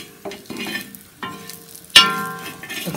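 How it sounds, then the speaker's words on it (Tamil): Plantain slices frying in oil for a crispy plantain fry, with soft sizzle beneath a few distinct utensil clinks and scrapes, one bright metallic ring near the end, close and clear. "நல்லா கொஞ்சம் ஃப்ரை ஆகட்டும்."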